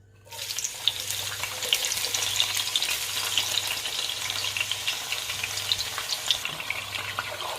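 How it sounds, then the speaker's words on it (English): Chopped onions fry in hot palm oil, a close, steady crackling sizzle that starts abruptly and carries on evenly throughout, with a faint low hum beneath and no talking. "So my onions is simmering in the hot palm oil."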